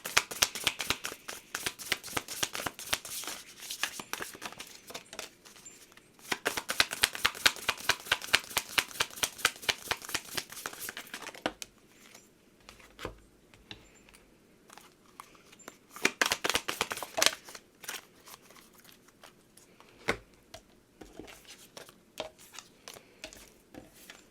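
Oracle cards shuffled in several long riffling bursts of rapid, crisp flicks, broken by quieter stretches of softer card handling and occasional taps, close up with no talking.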